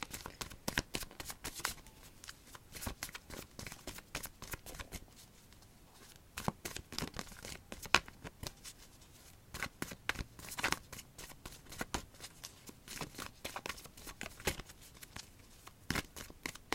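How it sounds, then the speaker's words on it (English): Tarot cards drawn and shuffled from a deck during a reading, soft papery flicks and slaps scattered irregularly throughout, close and fairly quiet, with no talking. "let's get these last 2 cards out"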